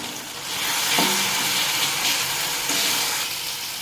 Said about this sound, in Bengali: এবার এটা কিছুক্ষণ নাড়া দিয়ে ভেজে নেবো 2 মিনিট মতো